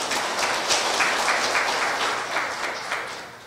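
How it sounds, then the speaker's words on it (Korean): Sustained applause from a seated audience at a Korea University ceremony welcoming a Korean Medical Association official, with steady dense clapping that fills the room and tapers slightly at the end. "큰 박수로 맞아해 주시기 바랍니다."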